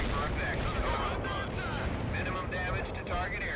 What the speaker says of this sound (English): Having fun with fire support